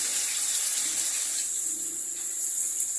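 About 1.5 kg of finely chopped onions frying in hot ghee in a large cooking pot, giving a steady, close sizzling hiss that holds evenly throughout with no voices.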